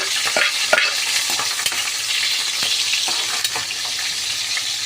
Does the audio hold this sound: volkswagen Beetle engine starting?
no